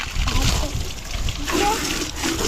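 Water splashes and sloshes steadily against a car while children and adults talk and shout nearby.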